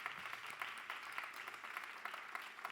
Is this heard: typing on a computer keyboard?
no